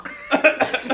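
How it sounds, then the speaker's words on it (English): A person clears their throat with a quick series of rough, close coughs lasting about a second, loud and alone. "Clear your throat, please."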